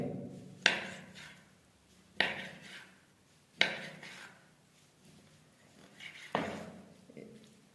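A knife chops chicken into small pieces on a board, landing as four or five sharp, separate knocks a second or so apart, each followed by a short rustle. No one speaks.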